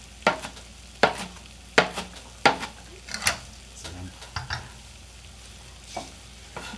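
Spinach sautés in a saute pan, a gentle sizzle under rhythmic stirring scrapes, about eight close strokes spaced roughly a second apart, with no talking.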